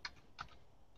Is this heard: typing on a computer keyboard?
yes